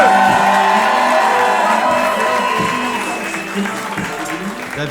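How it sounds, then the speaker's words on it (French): A comedy club audience fills the room with loud, sustained applause, cheering and whoops that taper off slightly toward the end. "On l'applaudit bien fort, s'il vous plaît."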